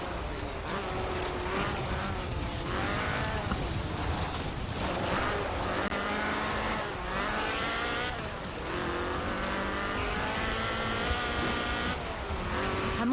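A Ford RS 1800 rally car with a fuel-injected 1790cc Cosworth BDE engine, driven in Forza Horizon 4, revs hard and continuously through repeated upshifts, its rasping note climbing and dropping with gear changes, loud and close throughout.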